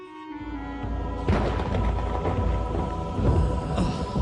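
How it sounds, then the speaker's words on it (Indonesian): Rain falls with rolling thunder in an animated film about a drought breaking, a steady downpour swelling sharply into a loud thunderclap that keeps rumbling, with no talk over it. "Alhamdulillah hujan."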